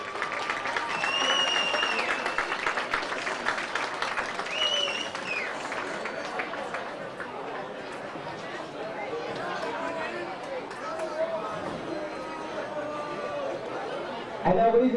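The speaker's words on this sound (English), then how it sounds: "Big round of applause, please" Stadium crowd at a CIF Division I boys soccer final applauding the runner-up team, a continuous mix of clapping, cheers and chatter from a large audience, with an announcer's voice rising over it near the end.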